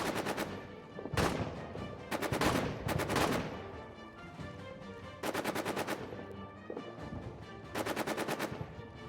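A machine gun post opens fire in a trench warfare video game, loud close bursts of rapid automatic gunfire repeating in several separate volleys with short pauses between them.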